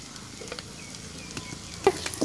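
Ginger and garlic fry in oil for a traditional village-style pepper chicken, giving a soft steady sizzling hiss with a few light clicks and pops near the end.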